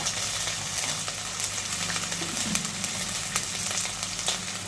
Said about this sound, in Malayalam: നന്നായി ഇളക്കി ഒന്ന് വഴറ്റാം.